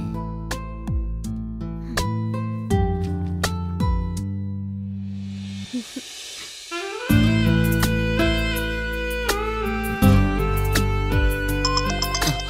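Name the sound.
phone ringtone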